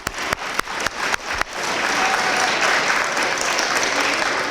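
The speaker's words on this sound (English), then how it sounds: "Give everyone a round of applause." Audience at a school awards assembly claps, starting with a few sharp individual claps that quickly swell into full, sustained applause from the whole crowd.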